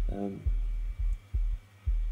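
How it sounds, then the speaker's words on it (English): A hard saturation distortion effect gives a buzzy, harmonically rich tone a gritty, distorted edge, followed by a few heavy low thumps spaced roughly half a second apart. "Hard saturation for distortion."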